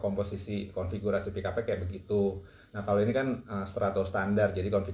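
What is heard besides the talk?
No everyday noise stands out behind the speech.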